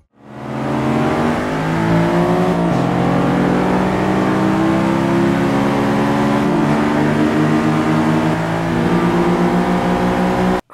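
A Honda Civic Type R accelerates hard from a race start, its engine roaring close and loud as the revs climb through several gear changes in a steady, sustained run.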